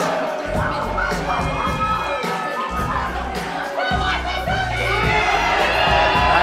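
A pro wrestling crowd roars and cheers loudly for a returning wrestler, with shouts and whoops rising over a constant wall of noise that swells toward the end.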